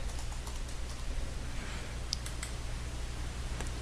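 Rapid, light clicking of keys on a computer keyboard as a schedule name is typed, steady and close with a faint hum underneath.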